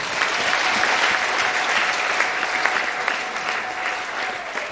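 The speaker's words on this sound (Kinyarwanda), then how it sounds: "Reka dukomere Imana amashyi dusenge." A church congregation claps loudly and continuously during worship, a dense burst of applause that slowly fades toward the end.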